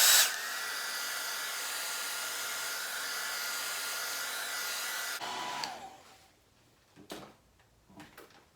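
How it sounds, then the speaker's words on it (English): A hairdryer blows on gold leaf adhesive, running as a steady loud whoosh for about five seconds, then cutting off and winding down, followed by a few faint handling clicks and taps. "Sometimes when I'm feeling a little impatient, I just get a hairdryer out"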